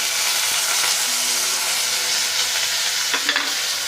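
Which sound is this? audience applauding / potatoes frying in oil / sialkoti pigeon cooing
potatoes frying in oil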